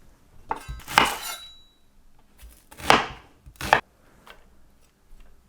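A knife chops half a white onion on a cutting board in a few separate, sharp strikes spaced irregularly, with quiet gaps between them.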